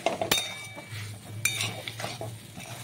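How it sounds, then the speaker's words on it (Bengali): A spoon stirring pasta with pasta masala in a pan, scraping and clinking against the metal with a faint sizzle, a few sharp clanks among continuous stirring. "এবার পাস্তা মশলাটা দিয়ে দিলাম, দিয়ে এবার ভালো করে একটু নাড়িয়ে চাড়িয়ে নেব।"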